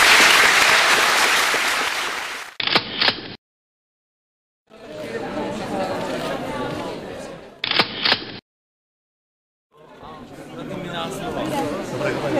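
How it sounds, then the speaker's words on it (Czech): A crowd at the Ceny Ď award ceremony applauds loudly, with chatter mixed in, in bursts broken by abrupt silences and short bursts of rapid camera shutter clicks. "Všem těmto přítomným dobrodivcům, mecenášům a dalším vlídným lidem bouřlivě zatleskat"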